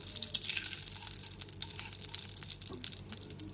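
Asafoetida sizzles in hot oil in a pan over a low flame for a pumpkin and potato curry, a steady frying hiss with light stirring scrapes throughout, close and fairly quiet.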